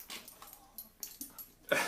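A pet dog gives a few soft, short whimpers and yips close by in a quiet indoor setting, ending in a slightly louder burst.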